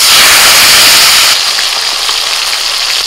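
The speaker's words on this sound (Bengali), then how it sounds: "সব মাছ ভাজা হয়ে গেছে, ওই তেলে ফোড়নে দিচ্ছি কালো জিরে" Black cumin seeds and tomato hit hot oil left over from frying fish, giving a loud, steady, close sizzle that eases slightly after the first second and then keeps crackling.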